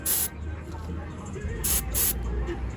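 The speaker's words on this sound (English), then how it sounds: "It's brake cleaner. Heat evaporates it. You want to spray it." Several short, loud bursts of brake cleaner hiss from an aerosol can onto a brake rotor of a 2006 Buick LaCrosse, close up and separated by pauses, over a low background rumble.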